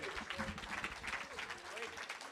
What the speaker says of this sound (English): let's have a round of applause for Jess T and Cornelius Eady